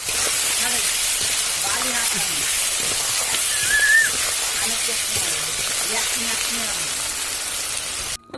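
Potatoes fry in a pan, hissing and sizzling as a loud, steady wash of sound held close, with faint voices and a brief squeak partway through.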